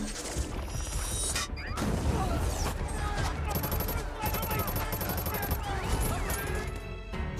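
Rapid bursts of gunfire crackle and echo in a chaotic film shootout at a building, with metallic clanks and impacts layered over a dense, loud background.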